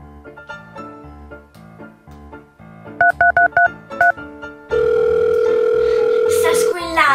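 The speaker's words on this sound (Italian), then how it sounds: "Sta squillando." A telephone is dialed with a rapid burst of short keypad tones, then a steady, loud ringback tone sounds for about two seconds; a person speaks before and between, with soft background music underneath.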